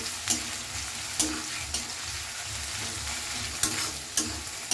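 Onion and garlic frying in a pan while being stirred, a continuous close sizzle broken by regular sharp spatula scrapes and taps about once a second, with no talk.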